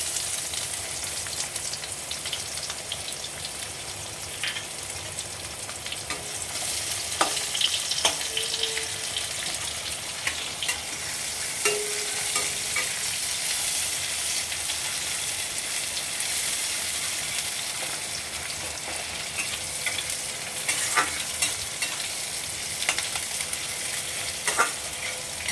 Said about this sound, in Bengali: এবার পেঁয়াজ কুচানোটা দিয়ে দিচ্ছি।